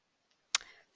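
A single sharp computer mouse click sounds up close in a quiet room, with a faint softer tick just before it.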